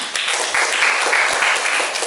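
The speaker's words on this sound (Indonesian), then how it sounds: "Tepuk tangan untuk Niam." A dense burst of applause from a class of students clapping steadily and loudly for a couple of seconds.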